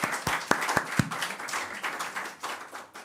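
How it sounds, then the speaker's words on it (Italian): A crowd at an agricultural products fair claps, with a few sharp, distinct claps at first that blend into a looser, fading round of applause. "un bel applauso per questo bel ragazzo."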